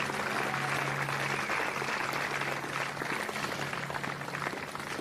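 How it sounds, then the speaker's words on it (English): A crowd at an outdoor municipal band concert claps in sustained applause, a fairly faint, even wash of many hands with a low steady hum running underneath. "Give Jeremy Clark another round of applause, would you?"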